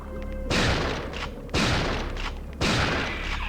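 Gunfire in Resident Evil 3: three loud, booming shots spaced about a second apart, each followed by a decaying rumble, with no talk.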